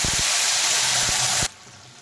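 A paste of tomato, ginger and green chili hits hot frying spices with a loud, close burst of hissing sizzle that cuts off abruptly after about a second and a half.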